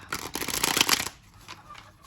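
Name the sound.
shuffling tarot cards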